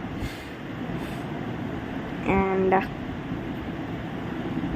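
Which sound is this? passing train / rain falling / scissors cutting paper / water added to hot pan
passing train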